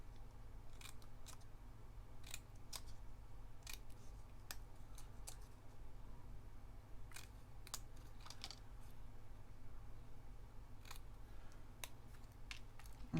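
Scissors snip through card for a scrapbook layout with Project Life pocket pages, a series of quiet, crisp cuts at uneven intervals over steady low room hum, close by and with no talking.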